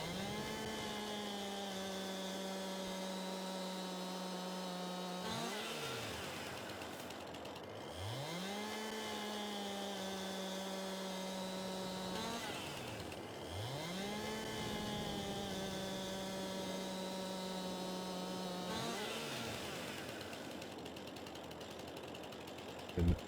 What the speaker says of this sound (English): Get the chainsaw out.